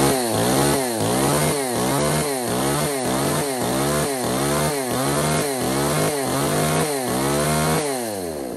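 Used Japanese-market chainsaw idling and revving, loud and close, with a steady engine drone pulsing in regular surges throughout and no talking over it.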